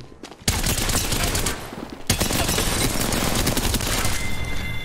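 Rapid automatic gunfire from Apex Legends rattles in loud sustained bursts, breaking off briefly at the start and again near two seconds before resuming in dense repeated shots.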